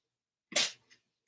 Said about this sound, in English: Cat sneezing.